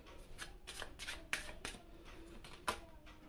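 Tarot cards being shuffled by hand, a quiet close run of soft riffling bursts in an uneven rhythm, with two sharper snaps standing out, no talking.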